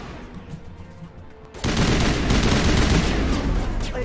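Assault rifle fire in the sci-fi game Mass Effect, a quieter stretch giving way after about a second and a half to loud, dense, sustained gunfire that continues to the end.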